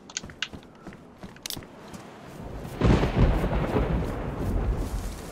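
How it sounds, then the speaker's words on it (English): Thunder in the DayZ survival video game: scattered faint crackles, then a loud, deep rolling rumble that swells and keeps grumbling to the end, with no one talking. "love thunder."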